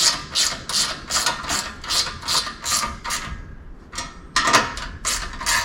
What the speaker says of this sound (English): If you got a socket, you can use a socket.